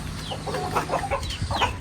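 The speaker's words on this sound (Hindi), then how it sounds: "मुर्गी अंदर आ गई जी मौके से फ़ायदा उठा के" A hen wandering indoors during a construction setup lets out a run of clucks and squawks at close range, several calls in quick succession with no talk over them.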